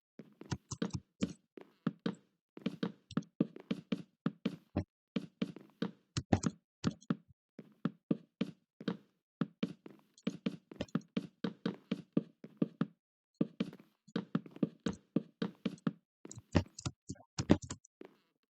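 Oak plank blocks being placed in Minecraft Java Edition, a long run of quick, crisp, woody knocks, sometimes single and sometimes in rapid clusters, with no talking.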